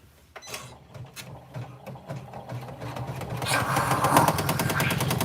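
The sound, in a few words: sewing machine top stitching a bag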